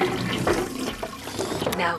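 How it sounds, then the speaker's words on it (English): A toilet flushing aboard a spy submarine in a family spy film, a steady watery rush lasting the whole stretch at moderate loudness, with some talk mixed in. "Now flushing your poop."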